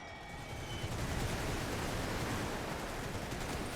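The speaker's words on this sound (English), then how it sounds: "they're firing a lot on my stupid Landwehr" Musket volleys from infantry in The Great War 6.0 video game merge into a dense, continuous crackling roar of distant massed gunfire with no voices.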